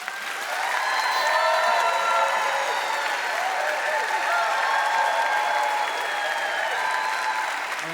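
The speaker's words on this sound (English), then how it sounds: "as they enter the stage, I appreciate applause for each of them" A large audience at a televised debate applauds as a debater walks onto the stage, a sustained full burst of clapping with a few cheers mixed in, loud and close, holding steady for several seconds before easing off.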